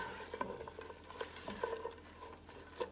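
Onions being stirred into a hot pan, soft repeated scraping and light clatter over a low sizzle, close up.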